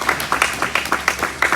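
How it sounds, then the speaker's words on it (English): A short burst of applause, several people clapping in quick, uneven rhythm close by. "I do want to give my cousin another round of applause for his speech."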